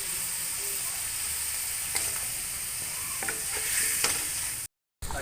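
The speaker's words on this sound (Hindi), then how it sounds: "अच्छे से ये फ्राई भी हो जाता है और कलर भी इसका चेंज हो जाता है" Pieces of beef fry in oil in a pot and are stirred, giving a steady soft sizzle with occasional scraping clicks from the spoon, fairly quiet and continuous.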